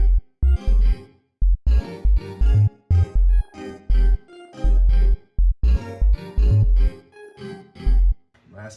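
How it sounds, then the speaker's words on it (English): A produced beat of punchy kick and snare hits with chords and a deep bass line, looping in a tight syncopated groove, loud and alone with no voices. "And that plus the bass line I wrote sounds like this."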